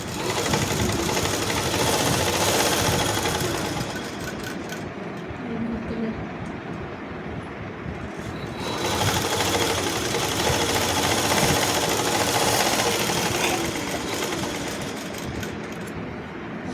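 Sewing machine stitching a lined zipper onto fabric, running in a loud, steady mechanical whir for long stretches with brief pauses and changes in pace, heard up close throughout.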